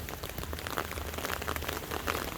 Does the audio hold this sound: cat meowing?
no